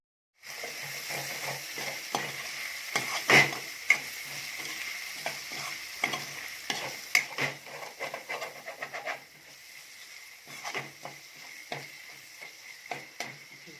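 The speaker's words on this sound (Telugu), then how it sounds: "కొంచెం చింతచిగురు ఆకు పచ్చి స్మెల్ ఉంటుంది కదా, ఆ స్మెల్ పోయేదాకా కొంచెం ఆయిల్లో ఫ్రై చేయాలి" Tender tamarind leaves fry in oil in a pan with a close, crackling sizzle. Frequent sharp stirring scrapes and clicks come throughout, and the sizzle eases somewhat toward the end.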